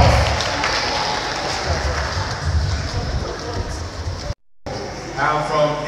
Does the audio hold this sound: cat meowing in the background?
no